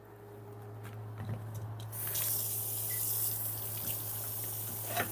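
Tap water rinses potatoes in a kitchen sink. After a few faint knocks and handling sounds, the water switches on and gives a loud, steady rush over a low electrical hum.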